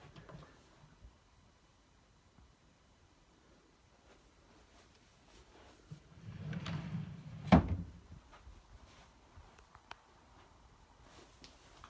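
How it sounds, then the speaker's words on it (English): An IKEA chest of drawers has a drawer slid out and pushed back in, one soft rumbling slide ending in a sharp knock, with faint handling clicks around it in a quiet room. "you can just slide them out, lift them out of place and swap them with some of the other drawers"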